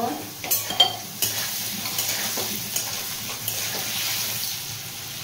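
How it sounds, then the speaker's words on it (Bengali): Potato pieces seasoned with salt and turmeric fry in a pan for veg khichdi, a steady close sizzle. A few sharp spoon-and-pan stirring clinks come early, then lighter scraping, with no talking. "আলুর মধ্যে একটু নুন আর একটু হলুদ দিয়ে দেব, তারপর ভেজে নেব।"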